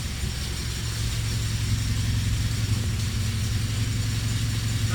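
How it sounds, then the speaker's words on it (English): A Honda B16 engine idles rich at a steady, even pace, a low continuous rumble with a faint hiss above it and no other sounds. "this car likes idling rich"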